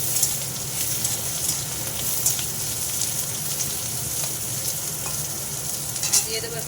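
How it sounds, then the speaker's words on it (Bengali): Potatoes fry in a pan with black cumin and dry red chilli tempering, a steady close sizzle and crackle with occasional spoon scrapes and light clinks, holding even throughout. "আলুটা ভাজা হোক।"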